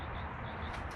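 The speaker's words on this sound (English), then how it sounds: "And then there's the reply chirp chirp" Coturnix quail hens answer with soft chirps, heard faintly over a dense, steady background hiss and rumble, the calls short and not prominent.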